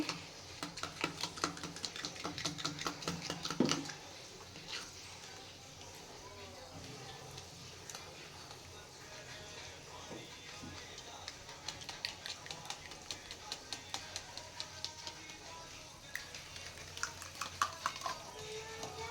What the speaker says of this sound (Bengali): দইটা এখানে ফেটে নেওয়া হচ্ছে।